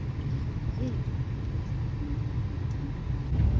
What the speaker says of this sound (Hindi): अब गाड़ी तो चल रहा है